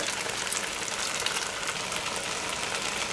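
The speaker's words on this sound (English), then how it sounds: "here you can see it's all nice and sizzling, and here's our browned stuff." Kangaroo meat sizzles as it browns in a pot, a dense, even crackle and hiss heard up close with no voices.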